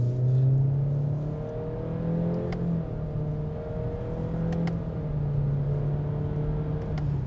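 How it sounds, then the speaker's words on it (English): A 2019 Honda Accord Sport engine and exhaust revving, a steady low drone whose pitch climbs and falls across several rises, heard alone and fairly close. "you do hear the engine and the exhaust responding"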